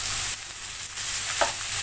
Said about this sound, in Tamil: வெங்காயம் சேர்த்துட்டு இது நல்லா ப்ரௌனாக வதக்கிக்கலாம்.